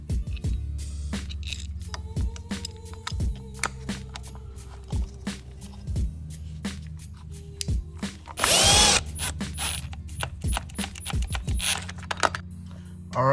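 A ratchet clicks in quick bursts while a 10 mm bolt is tightened back in on a luxury SUV during a repair, with short pauses between the runs of ticking and a brief louder whir partway through.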